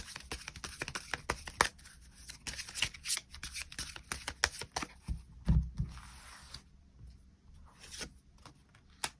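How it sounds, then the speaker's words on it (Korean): Tarot cards are shuffled and drawn up close and quietly, in a steady stream of soft riffles, flicks and snaps, with a brief dull thump partway through. "추가 카드 뽑아보도록 하겠습니다"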